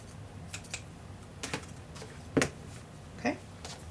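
Scissors snip off excess card paper on a handmade shabby chic greeting card: three or four short, crisp cuts spaced about a second apart, close and fairly quiet over a soft room hiss, with no talking.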